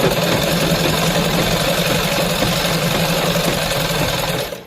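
A sewing machine drives a salwar seam in a loud, steady, continuous run with a heavy motor hum. It stops abruptly near the end, and no one speaks.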